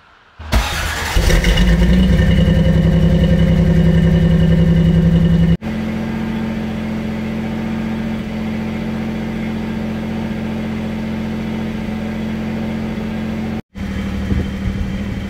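A 1993 Toyota pickup engine, suspected of a head gasket leak, starts with a brief crank and then runs at a steady loud idle close by, with a deep continuous rumble and no talking.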